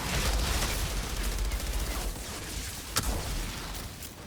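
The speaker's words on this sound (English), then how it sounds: "you're able to land your rifle shots to blow them up" Rifle fire and explosions in the shooter game Outriders, a dense, loud barrage of gunshots and blasts running continuously, with one sharper crack near the end.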